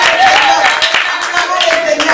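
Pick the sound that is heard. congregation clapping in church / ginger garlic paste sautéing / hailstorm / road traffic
congregation clapping in church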